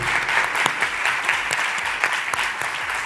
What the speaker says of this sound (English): One more round of applause for our incredible panel this year.